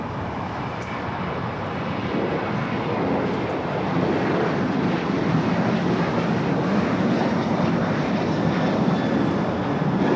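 An American airliner takes off from runway 25 right at LAX, its jet engines roaring loud and steady, building slightly in intensity and continuing without a break.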